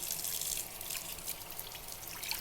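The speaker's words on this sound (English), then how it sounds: "You want to prevent that from happening by rinsing out and trimming the fish correctly." Dover sole rinsed under running water at a kitchen sink, giving a steady close trickling and splashing wash that stays even and continuous, with no voices.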